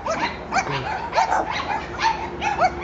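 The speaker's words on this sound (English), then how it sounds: "Uh-oh, the neighbor's dogs are out." A neighbor's dogs bark and yip repeatedly in short bursts, at a moderate distance and fairly loud, with some whimpering between barks.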